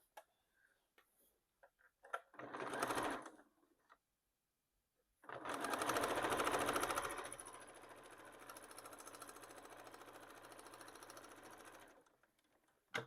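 Sewing machine quilting stitches through a fabric pencil case, heard close and fairly quiet: a short burst of rapid stitching, a pause, then a longer steady run of fast rhythmic needle clatter that gradually slows before stopping.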